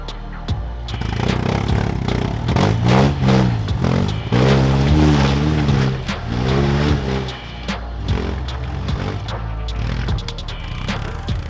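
A 4WD truck on big tyres with near-factory gearing labours up a rock trail on New Zealand's West Coast, its engine droning and surging close by as the clutch struggles, rising and falling in strained pulls.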